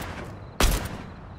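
A loud burst of gunfire in the video game Fortnite, one sharp close blast with a short decaying tail over a steady game background.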